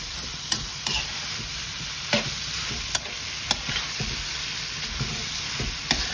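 Pork pastil frying in a pan gives a steady, close sizzle, with a spatula scraping and clicking against the pan every second or so as the meat is stirred until golden brown.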